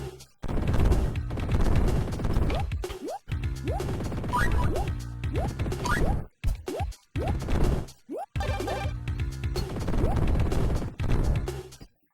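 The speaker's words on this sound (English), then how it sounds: "To lure those things towards me so that I can hit them with my gunfire." Gunfire in the 1994 DOS video game Jazz Jackrabbit, loud rapid volleys of shots and impacts that repeat in dense bursts, broken by a few brief gaps, with no voices.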